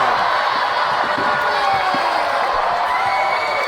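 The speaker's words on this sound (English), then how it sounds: "Listen to this sellout crowd here in Doha." A sellout wrestling crowd in Doha roars throughout at the QPW SuperSlam 2017 event, a loud, continuous wash of cheering and shouting with scattered whoops and no break.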